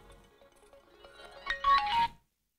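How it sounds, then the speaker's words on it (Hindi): A phone ringtone rings for an incoming call, a short electronic melody of tonal beeps that swells louder toward the end before cutting off, heard alone with no talking. "वकील साहब का फोन है।"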